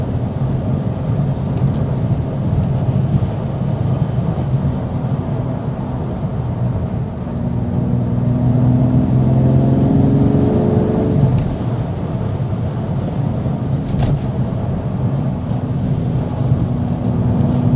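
BMW M2 Competition with the S55 engine on a morning drive, a steady low engine drone and tyre roar throughout with a rising rev around the middle, close and continuous, no talk.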